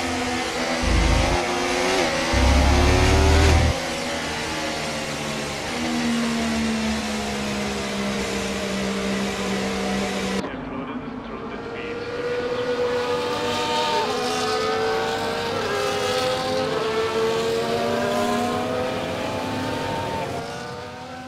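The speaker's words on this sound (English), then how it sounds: "as the cars take their positions on the grid" F1 cars sit on the starting grid at Imola in the F1 24 racing game, a wet race, with engines droning and blipping in rising, whining tones, one louder revving burst early and then a steadier layered hum.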